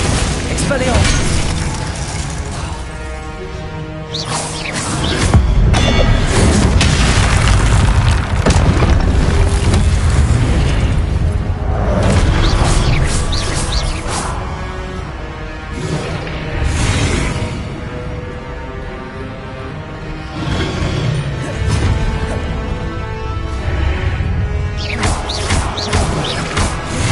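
Magic spell blasts fired in the video game Hogwarts Legacy, a rapid series of loud whooshing bursts and crashing impacts over mechanical game effects, with a player shouting spell names throughout.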